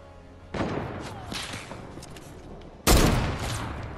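Gunfire in a shooter video game, two sharp bursts about two seconds apart, each followed by a short rattling decay, heard close over a low background hum.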